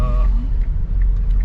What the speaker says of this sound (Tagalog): Traffic mga kabayan sa ano,